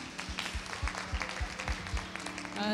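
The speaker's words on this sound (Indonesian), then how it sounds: "Berikan tepuk tangan bagi Tuhan" Congregation clapping during a Sunday church service, steady moderate applause over rhythmic low thumps of worship music, with some tonal accompaniment underneath.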